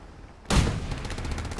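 Artillery fire in a video game, a single sudden loud blast after near-silence, followed by a sustained rumbling roar with rapid pulsing gunfire beneath.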